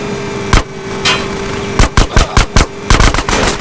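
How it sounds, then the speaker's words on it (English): Gunfire in the game GTA San Andreas while shooting out an old sewer gate, loud close shots, single at first, then a rapid run of five and a closing cluster, over a steady background hum. "Shoot out the gate!"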